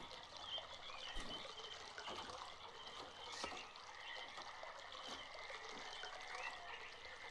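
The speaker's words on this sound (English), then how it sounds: "Hear the water flow." Steady trickling and flowing water in the game Myst, a continuous soft stream with faint dribbles running alone for the whole stretch.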